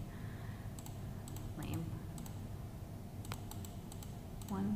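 Quick keystrokes on a computer keyboard as a password for a Zmodo NVR security recorder is entered, a few scattered clicks over a steady low hum with a voice in the background.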